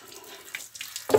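Water from a faucet runs briefly while a kitchen counter is washed with foamy suds, faint at first and then a louder close splash at the end.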